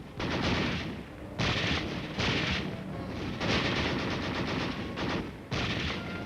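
Heavy gunfire and artillery from a Korean War street battle in Taejon, a dense, continuous barrage of loud bursts and rattling shots with periodic surging blasts and no speech.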